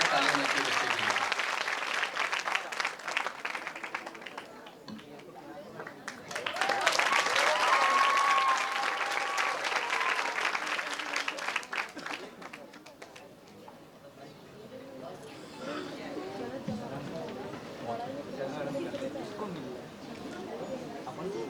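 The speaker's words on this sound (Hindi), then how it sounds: "जोरदार तालियां बच्चे के लिए" Audience in a Bhopal auditorium giving loud applause for a child performer, two strong bursts of clapping followed by a voice speaking over a quieter hall.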